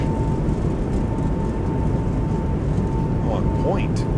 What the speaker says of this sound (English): Reversers out.